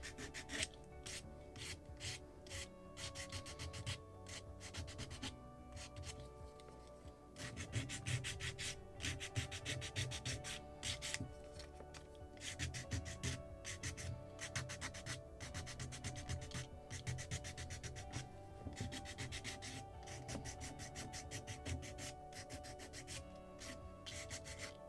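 Sanding the burned edge of a laser-cut wooden part for a Midwest Muscongus Bay Lobster Smack model kit: steady, close rasping strokes repeat in a continuous rhythm throughout, with no talking.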